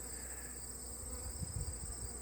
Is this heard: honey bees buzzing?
yes